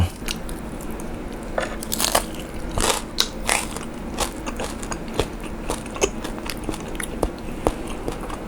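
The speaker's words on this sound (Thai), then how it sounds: "หมูกรอบเปล่าๆก็อร่อย" Someone bites into and chews crispy pork belly served with noodles. Sharp crunches and crackles come close to the mic at an irregular rhythm over a faint background, with no talking.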